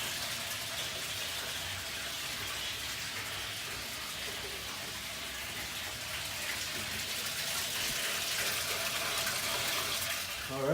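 Water pours steadily into a large 200-gallon fish tank, a continuous close gush and splash that swells slightly louder toward the end, with no talking.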